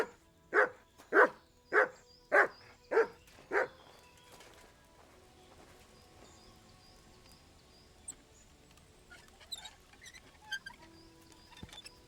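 A dog barking in the video game Kingdom Come: Deliverance II, six loud evenly spaced barks in quick succession, followed by quieter scattered game sounds and faint clicks.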